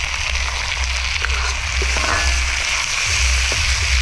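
Ripe red tomatoes sizzle and crackle steadily in hot oil, a close, continuous frying hiss with a low hum underneath.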